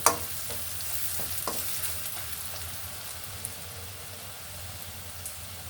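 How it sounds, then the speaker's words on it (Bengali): Dry red chili, turmeric, coriander powder and salt sauté in a hot pan, giving a steady close sizzle with a few sharp stirring scrapes near the start and no talking. "মশলাটা একটু আমি কষিয়ে নিব"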